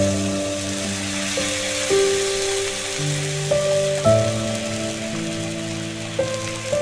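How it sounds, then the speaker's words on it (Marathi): Water poured into a pan of shrimp curry makes a steady hissing, sizzling wash, moderately loud and continuous, under a background of sustained tones. "आपण त्याच्यामध्ये थोडंसं पाणी ओतणार आहोत"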